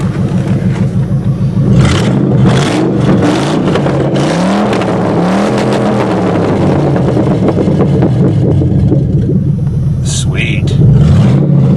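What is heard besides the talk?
305 small block Chevy engine running and revving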